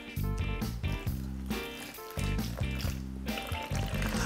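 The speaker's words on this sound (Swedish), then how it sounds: "Och då kan man ta lite vatten." Water pours steadily into a container in a kitchen, a continuous gurgling fill with shifting pitch over a soft background.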